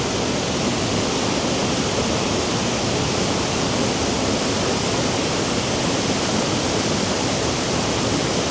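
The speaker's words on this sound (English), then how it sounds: "Triple cascade waterfall, of course." A triple cascade waterfall in Wicklow, Ireland, roars steadily and close, a dense, unbroken rush of falling water with no other sounds.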